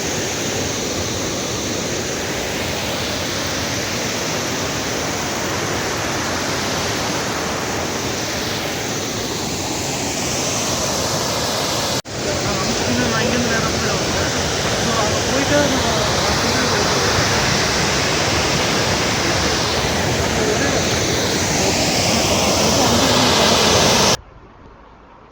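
Anchuruli tunnel waterfall pouring into the Idukki reservoir, a steady, loud broadband rush of falling water that runs unbroken for about twenty-four seconds before cutting off abruptly.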